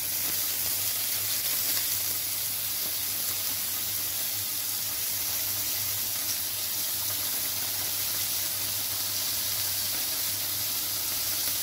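Sardines fry in hot oil in a pan with a steady, close, even sizzle and hiss that runs unbroken throughout, with no talking over it.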